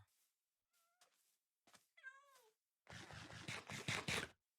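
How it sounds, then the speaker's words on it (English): A few scattered meows from a video game cat, heard alone and clear, with short tonal cries and sliding calls in the first half, then a louder, longer yowling run at the end. "And I see a cat way off in the distance."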